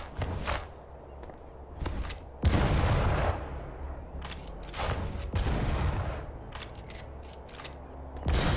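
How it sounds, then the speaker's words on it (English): Sniper shotgun fired in the VR game Sniper Elite VR: several loud, sharp blasts spaced a few seconds apart, each with a booming tail, alongside lighter handling clicks and shuffling between shots. "Seems like a sniper shotgun, honestly."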